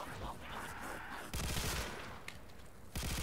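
Rapid gunfire from a recoil-heavy weapon in World at War zombies, a custom Christmas map, crackling in dense bursts with short gaps, loud and close, mixed with game noise and brief talk.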